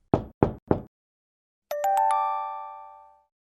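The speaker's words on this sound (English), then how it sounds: "that's when somebody knocked on the door" Three quick, sharp knocks strike a door in even succession, close and distinct, followed after a pause by a bright ringing chime that fades slowly.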